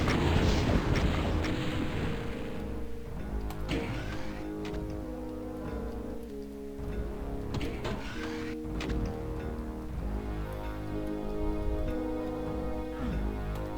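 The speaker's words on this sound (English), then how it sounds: "this seems like a rocket launcher job" Rocket launcher blasts and explosions in the Doom map Switcheroom 2, a loud, dense run of booming shots over steady game music throughout.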